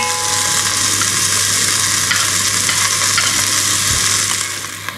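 Onion and garlic frying in a pot for Texas chili give a steady, loud, close sizzle that holds evenly throughout and fades slightly near the end, with no talking.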